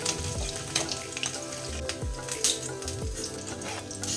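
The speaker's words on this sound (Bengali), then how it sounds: "এখন উল্টো দিকটাও ভেজে নেব" Kajoli fish frying in hot oil, a continuous crackling sizzle with occasional sharp spatters and a few soft utensil clinks, close and steady.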